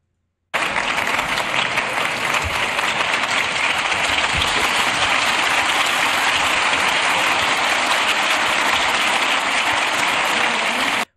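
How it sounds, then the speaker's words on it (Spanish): Deputies in the Spanish Congress break into sustained applause, a dense, loud wash of many hands clapping that starts abruptly and holds steady until it cuts off. "mientras que el resto de formaciones deciden aplaudirle"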